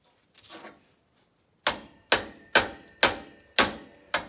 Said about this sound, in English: I'm trying to force a 10mm socket onto an 11mm grease nipple